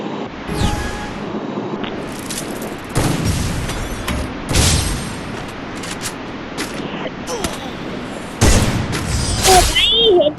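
Shots fired in the mobile battle game Free Fire, scattered gunshots and booms mixed with game effects, heard under a player talking throughout.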